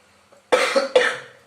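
Two quick, close coughs in succession, harsh and loud, after a moment of near silence.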